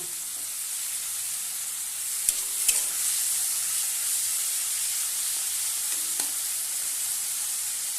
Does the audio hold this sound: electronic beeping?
no